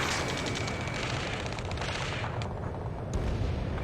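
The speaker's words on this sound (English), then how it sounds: "Taking fire! We're pinned down! Shoot back!" Gunfire in the Ace Combat 7 video game, a dense continuous clatter of rapid shots and booms filling the whole stretch at steady loudness, with no talk over it.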